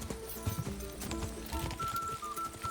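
Hoofbeats of a horse galloping in Kingdom Come: Deliverance II, a steady rapid clip-clop running continuously under a sustained tonal game soundtrack, moderately loud and close, with no talking.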